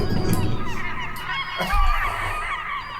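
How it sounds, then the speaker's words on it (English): Seagulls squawk in a run of loud, harsh honking calls that overlap and repeat through the whole stretch, with a brief burst near the middle. "The seagulls are celebrating."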